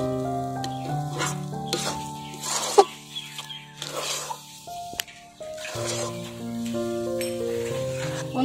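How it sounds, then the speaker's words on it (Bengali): Rice sandesh mixture with cardamom powder being stirred in a wok, with scattered scrapes and soft sizzling bursts, plus a few sharper knocks, under steady background music. "এলাচ গুঁড়োটাকেও দিয়ে আমরা একইভাবে নাড়াচাড়া করে নেব।"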